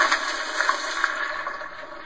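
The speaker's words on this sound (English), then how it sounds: "Need to flush it one more time to get the pressure off of the tank." A toilet is flushed again to release pressure from its tank during plumbing work, giving a steady close rush of gushing water that continues for the whole stretch with no talk over it.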